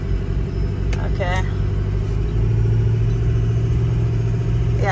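A 2005 Ford F350 truck with a 6.0 Powerstroke diesel engine and giant tires runs steadily with a deep, loud rumble, rising slightly as light throttle is applied partway through.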